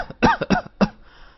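A few harsh, raspy coughs in quick succession, close and fairly loud, trailing off into quiet.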